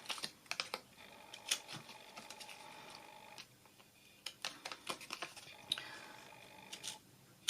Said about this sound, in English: Then you're going to do some cutting.